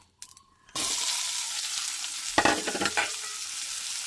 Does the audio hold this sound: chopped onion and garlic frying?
yes